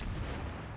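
Naval guns of the Soviet destroyer Ognevoi fire in World of Warships, a dense, booming roar that fills the whole short moment at steady loudness with no speech over it.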